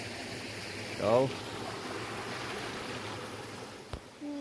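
A clear river stream flows steadily over rocks in a broad, even rush of water, with a brief voice and a few small knocks over it.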